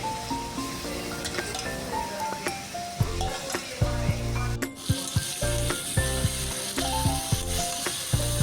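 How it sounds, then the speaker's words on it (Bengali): Marinated chicken is added to hot oil with tomatoes in a pan. A continuous sizzle is broken by clanking and scraping knocks, and a sharp burst of hissing comes partway through. There is no speech. "জাস্ট ওই চিকেনটা দিয়ে দেবো যেটা ম্যারিনেট করেছিলাম ওটা এখানে আমি দিয়ে দেবো"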